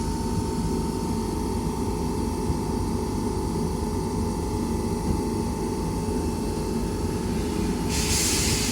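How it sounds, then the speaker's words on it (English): A Class 319 electric train pulls out of Rainhill station, giving a steady, loud rolling hum and hiss with a constant tonal whine, then a burst of bright hiss near the end, with no voices. "Train now departing is a 319 going to Wilmslow."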